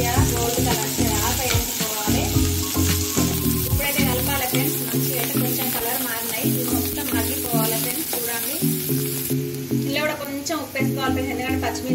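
Sweet corn fries with carrot and coriander in a pan for a crispy restaurant-style dish, making a continuous sizzle with stirring. Tonal, patterned sound runs over it throughout.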